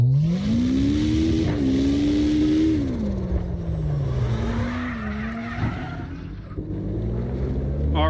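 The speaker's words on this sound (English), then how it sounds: "Car sounds good." Drifting car engine in the CarX Drift video game, a loud revving note that climbs, holds and falls as the car slides, with tyre noise over the sustained whine.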